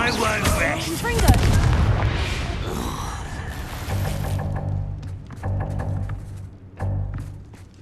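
A blasting-spell explosion in a Hogwarts Legacy game: a loud, heavy boom with rumbling debris near the start, fading into a quieter game ambience with a few later thumps and impacts.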